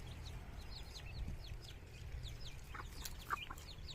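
Chickens, including a Rhode Island Red, and ducks in a farm pen, heard as soft scattered clucks and chirps at moderate distance over a low background rumble, with a brief louder call near the end.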